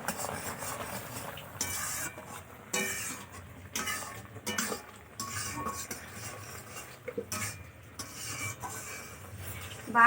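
Ash gourd morabba being stirred in a pan over low heat, with repeated spoon scrapes and metallic clinks against the pan in irregular bursts, faint sizzling underneath, close and fairly quiet, no talk.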